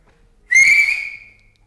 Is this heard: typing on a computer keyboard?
no